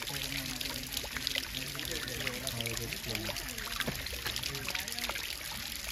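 Spring water at Srisailam pours and splashes steadily in a continuous bright trickling rush, close and unbroken, with faint voices in the background.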